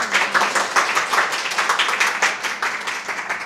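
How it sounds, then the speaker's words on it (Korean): An audience at a running seminar on winter training applauds the coach after her talk: continuous, fairly close clapping from a modest crowd, even in level throughout. "우선 이렇게 또 강연해주신 진희 코치님에게 큰 박수 부탁드리겠습니다."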